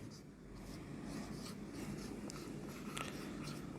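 Chalk or marker scratching across a classroom board during a Hindi lesson, faint and continuous with soft strokes over a low room hum, no speech over it.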